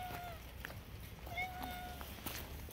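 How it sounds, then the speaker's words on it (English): A house cat meows outside a door, two or three short plaintive meows with quiet room noise and faint movement in between, fairly soft and at a little distance. "What's all the meowing about?"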